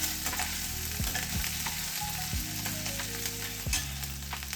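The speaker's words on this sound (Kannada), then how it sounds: "ಹಸಿಮೆಣಸಿನಕಾಯಿ, ತುರಿದಿಟ್ಕೊಂಡಿರುವಂಥ ಶುಂಠಿ ಸ್ವಲ್ಪ ಫ್ರೈ ಮಾಡ್ಕೊಳ್ಳೋಣ" Green chili and grated ginger fry in a pan, giving a steady, close sizzle with repeated scraping and stirring strokes of a utensil and no voices.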